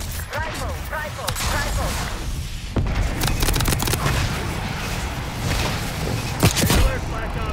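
Explosions and gunfire from glide bombs in Black Ops 6, a busy close barrage of thuds, cracks and booms running continuously, with voices talking over the chaos.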